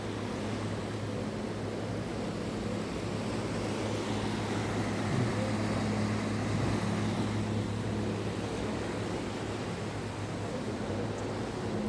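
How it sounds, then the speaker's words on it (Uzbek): A ferry ship's engine runs steadily on a crossing from Denmark toward Sweden, a continuous loud rumble with a low tonal hum, mixed with broad wash of water and wind, no talk. "Mana motor ishlayapti bu yerda."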